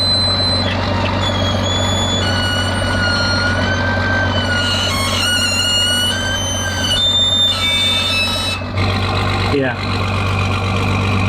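A tow truck engine runs at a steady, loud idle while lifting a broken Toyota Tacoma, a constant low drone with faint tonal whine over it and a person speaking briefly nearby.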